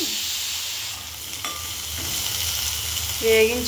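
Fish pieces frying separately in a pan for a fish and tomato curry, with a continuous loud sizzle and hiss, brief scrapes of stirring and a short squeak near the end.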